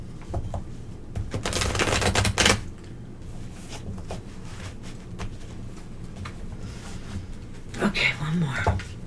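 Rapid clicking keystrokes on a keyboard come in bursts of varying loudness near the microphone, with a steady electrical hum underneath and occasional soft voices nearby.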